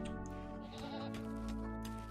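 Goats in the video game RimWorld give a few wavering bleats, fairly quiet, over a steady, dense game background that runs unbroken through the short stretch.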